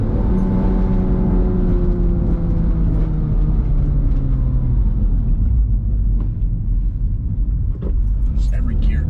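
A 2006 Porsche Boxster S carves through corners and shifts gears, its engine a loud, close, steady drone whose pitch climbs and falls with each change of revs.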